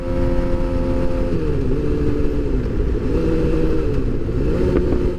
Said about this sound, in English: You can apply a downshift like this,